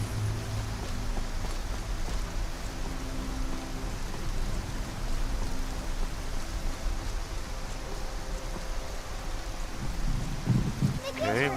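Steady, moderately loud rainfall hisses throughout in the game Skyrim, near the city of Solitude, with a soft patter on surfaces and some sounds of movement toward the end.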